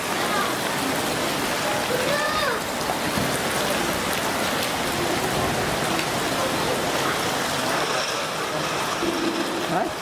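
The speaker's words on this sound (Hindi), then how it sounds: "हाथ भर की बारिश है।" Heavy rain pours steadily in a waterlogged street of Mumbra-Kausa, a dense continuous hiss of drops on surfaces throughout, with faint voices in the background.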